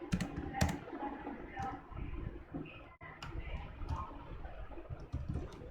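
Computer keyboard typed on during a JavaScript coding lesson, with quick bursts of soft clicking keystrokes close by, a brief pause in the middle and faint room noise.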